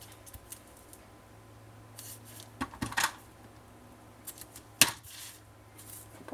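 Scissors snip adhesive tape for sticking plastic in a quiet room, a few sparse sharp close cuts and tape crinkles spread over the moment, with faint background hum and no talking.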